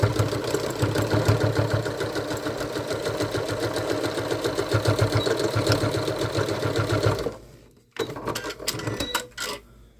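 A sewing machine stitches a seam on a fabric bow, a fast steady rattle running close and continuous for several seconds, pausing briefly, then starting again in a shorter burst.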